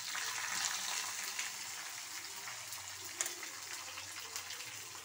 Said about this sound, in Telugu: ఇదిగోండి మిరపకాయలు, అవి పచ్చిమిరపకాయలు, అవి ఇవి చిట్టుపట్లాడతాయి కదా ఫ్రెండ్స్